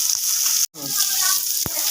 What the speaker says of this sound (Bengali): এই যে মাছটা ভাজা তেলে দিছি, এখন মাছটা একটা উল্টে দেবো